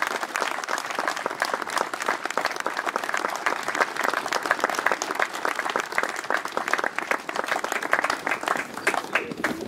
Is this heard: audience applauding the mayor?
yes